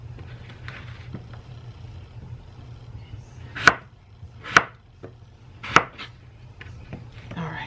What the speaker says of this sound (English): all I'm gonna do is cut them up into some bite-sized pieces